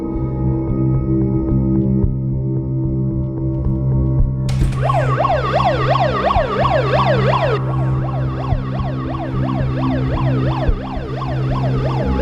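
An ambulance siren wails in a rising and falling pattern, starting abruptly partway through and continuing loudly to the end over steady background hum and music-like tones.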